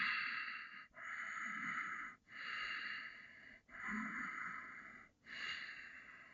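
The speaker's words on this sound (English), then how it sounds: "Deep breath." Slow, deep breaths during a Warrior 2 yoga pose, heard close and quiet, with about four even cycles of inhaling and exhaling separated by short pauses.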